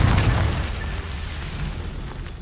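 Confringo spell explosion in Hogwarts Legacy, a single deep boom that bursts loudly at the start and then decays into a rumbling tail over about two seconds.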